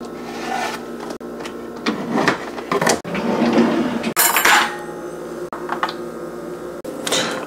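Kitchen pots and utensils are handled while canned pasta is prepared for heating, giving irregular close clatters, knocks and metallic bumps with short pauses between them.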